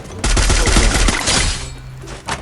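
Dense burst of rapid gunfire from the Free Fire battle-royale game, loud and close, a fast volley for about a second and a half that tapers off, then one more short shot near the end.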